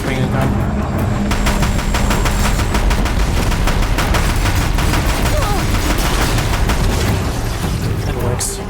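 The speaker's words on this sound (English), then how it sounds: "Oh, it's just a Deathbringer gun" Deathbringer gun fire in Horizon Zero Dawn, a loud sustained barrage of rapid booming shots and explosions for the whole stretch, with voices talking over the battle.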